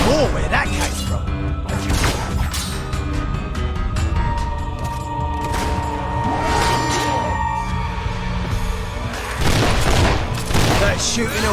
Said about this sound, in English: That shooting will kill you know.